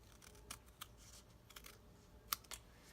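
Scissors snip the edge off a card, a series of faint, quick, crisp cuts at an uneven pace in a quiet room.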